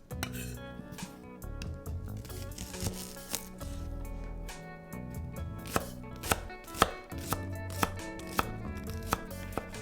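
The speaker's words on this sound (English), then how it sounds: "we're going to chop up 1 clove of garlic and 1 medium shallot" A knife chops one clove of garlic and one medium shallot on a cutting board. The sharp knocks come close and clear, in quick bursts with short pauses, growing louder and more spaced toward the end, with no talking.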